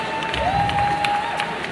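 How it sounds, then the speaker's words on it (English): Applause from the audience at the BEFFTA awards ceremony, a steady, dense patter of many hands clapping at a moderate distance, with a thin tone held through it and a few brighter claps. "give a round of applause to them for me"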